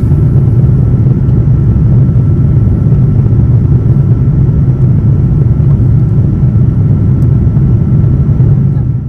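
A passenger airliner takes off at night on a flight from Calgary toward Chennai, heard from inside the cabin as a loud, steady low engine roar that holds throughout.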